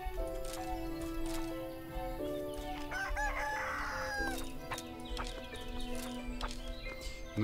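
In the Everdream Valley farming game, a rooster crows loudly over repeated hen clucks, with hoof-like clip-clop and light background music, no talking.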